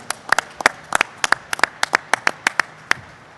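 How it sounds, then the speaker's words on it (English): Scattered hand claps from a small group of people ring out sharply and unevenly at a New York governor's coronavirus press briefing, each clap distinct rather than blending into a roar. "Let's give them a big round of applause for what they've done and what they're doing."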